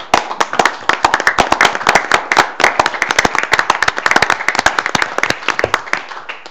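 Veterans standing at a city council meeting receive applause from the audience: dense, steady clapping from many hands, sharp and close, continuing throughout with no talk over it.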